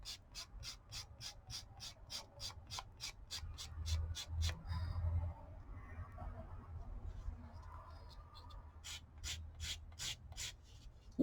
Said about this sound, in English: It takes a little bit to file down, so what I might do, as you can see that I'm filing